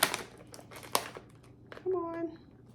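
A plastic zipper-seal bag crinkles in sharp, close bursts as it is handled, and a short voiced sound comes near the end.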